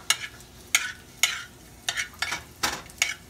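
Garlic for fried rice fries in a home kitchen pan, stirred in a series of about eight quick scraping, sizzling strokes, close and fairly steady in rhythm.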